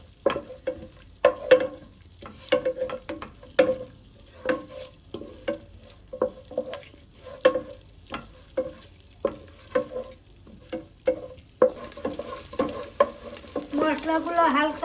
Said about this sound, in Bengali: মশলাগুলো হালকা ভাজা হয়ে গেছে